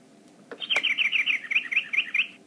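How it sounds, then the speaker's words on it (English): A small electronic bird in a LeapFrog Shapes & Sharing Picnic Basket toy chirps in a quick, even series of bright tweets, preceded by a couple of clicks. "What was that sound? I think it was a little birdie."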